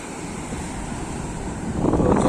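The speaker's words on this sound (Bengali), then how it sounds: "জলটা মারছে দেখো কীভাবে," Rough spring-tide sea waves at Digha surge and crash over the concrete guard wall, a steady roar of surf with wind buffeting the microphone, building louder toward the end.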